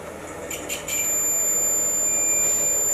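Multimeter on diode check giving a steady high-pitched continuity beep that starts about a second in and holds through the end, after a few faint short chirps, over low background hum during a machine winch brush renewal.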